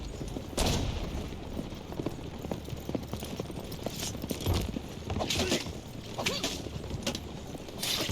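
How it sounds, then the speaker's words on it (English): A horse gallops in Assassin's Creed Brotherhood, its hooves clopping in a steady rapid rhythm under a noisy game soundscape with occasional loud sharp hits. "Faster! Forward, horse! Forward!"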